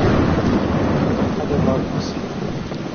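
Steady heavy rain with a low rumbling thunder-like roar in the video game White Night, broadband and constant throughout, slightly easing toward the end.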